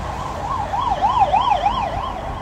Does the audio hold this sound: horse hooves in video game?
no